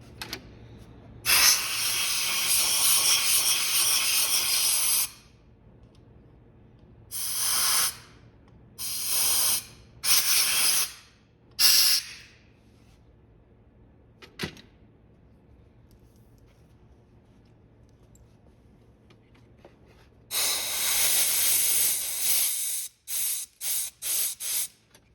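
Compressed air blasting through the needle passageways of a carburetor being rebuilt for a project car: a long loud hiss, then several short sharp bursts, a quiet gap, and another long blast ending in quick spurts.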